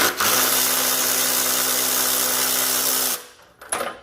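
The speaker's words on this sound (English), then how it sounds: "It's a Milwaukee ratchet, battery operated." A Milwaukee battery-operated ratchet with a 13/16 socket whirs steadily for about three seconds while taking a spark plug out of a snowblower, a loud, even motor buzz that stops abruptly and is followed by a brief rattle.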